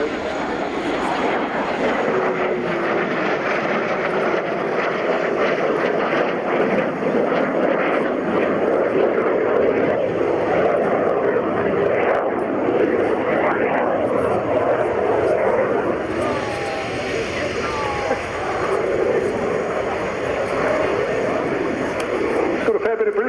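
Military jet performing an aerobatic display at the Royal Navy airshow at Yeovilton, its broad engine roar steady and loud throughout, with a commentator talking over it.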